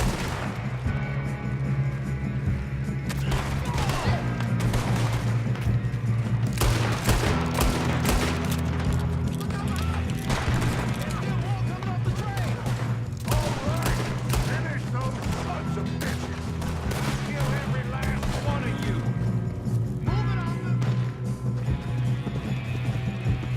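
Heavy gunfire in Red Dead Redemption 2, with repeated loud rifle and revolver shots cracking over a constant rumble of battle and music for the whole stretch.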